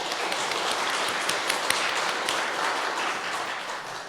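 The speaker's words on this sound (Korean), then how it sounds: "하나님께 영광의 박수 올려드리겠습니다" A church congregation claps together during a Sunday worship service, with dense, sustained applause that stays at an even level throughout and contains no speech.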